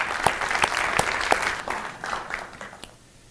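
Applause from the audience at a business association's annual awards meeting, a moderate crowd clapping with a few sharp standout claps, fading steadily over the final second.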